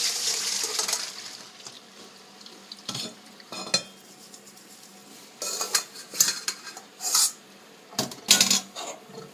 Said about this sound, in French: après 10 minutes d'ébullition, nous allons les égoutter.